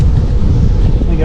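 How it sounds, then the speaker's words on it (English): Heavy wind buffets an outdoor microphone while someone rides a bike, a steady low roar of gusty rumble that fills the whole clip with no letup. "let me get out of this wind."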